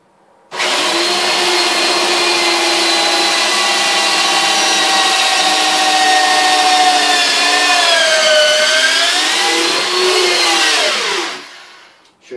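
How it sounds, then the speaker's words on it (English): A power drill bores through a laminated wooden Viking round shield, a loud steady high whine for about eleven seconds whose pitch sags and wavers as the bit bites deeper, then spins down and stops. "about drilling through the shield with the lamination on it"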